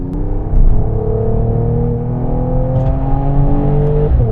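A Mercedes-AMG E 53 saloon accelerating hard on an open road, its engine note climbing steadily through the revs in a loud, continuous pull close to the car, with no talking over it.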